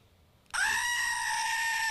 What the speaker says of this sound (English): I just need this goat to just constantly scream.